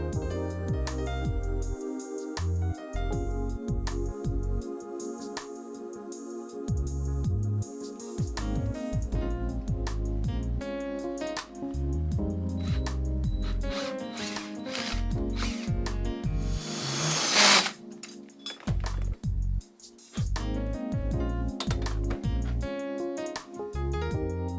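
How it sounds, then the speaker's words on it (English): A hand drill opens up the small holes in a plastic model car grille for a 1969 Plymouth Barracuda kit, with close, choppy ratcheting and whirring bursts and a short sharp grinding surge partway through. "Use a drill with a proper size bit to correct the problem."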